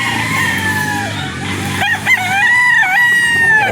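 A Tornado Hatch gamefowl rooster crows loudly and close on a farm, one long drawn-out cock-a-doodle-doo with a rising, wavering call, heard alone without talk.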